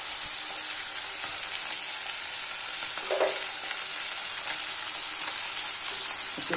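Mustard seeds and dried chili temper in hot oil after fish frying, making a steady close sizzle with a faint pop or two and no voices.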